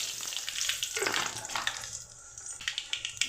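Mustard seeds spluttering in hot oil at the start of a tomato thokku, giving a steady crackling sizzle with scattered sharp pops that grow more distinct toward the end, close and alone.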